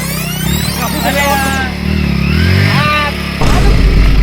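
A motorcycle engine revs and idles close by, rising and falling in pitch, with people talking loudly over it.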